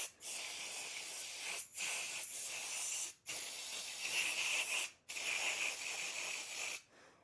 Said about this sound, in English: I'm going to use some brake cleaner on it.